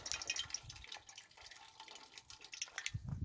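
Canning water drips and splashes unevenly as it pours from canned food into a stew pot for roo stew, with quiet irregular patters and a few louder splashes close by.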